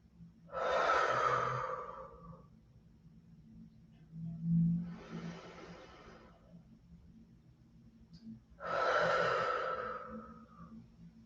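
Deep yoga breathing with three long, loud, close breaths spaced evenly about four seconds apart: full airy inhales and releasing exhales, each lasting around two seconds, with no talking.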